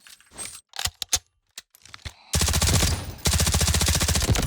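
A K416 rifle fired in the shooter Delta Force: a few sparse clicks and handling noises, then two long loud rapid full-auto bursts with a brief gap between them, close and dominant, without speech.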